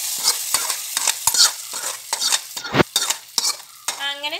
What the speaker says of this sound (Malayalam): ഇതിൽ നമുക്ക് കടുക് താളിച്ച് ഇതിനകത്തിലേക്ക് ഇട്ട് കൊടുക്കാം.